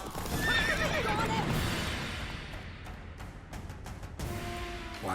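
Roach, Geralt's horse in The Witcher 3 video game, whinnies loudly and then trots with clip-clop hoofbeats under faint game sounds.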